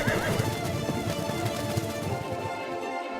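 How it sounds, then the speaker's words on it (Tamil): A cartoon horse neighs loudly, with the rapid clip-clop of galloping hooves running steadily underneath, and no voices. "அட, இந்த குதிரை ஓடுற சத்தம் எங்க இருந்து வந்துகிட்டு இருக்கு?"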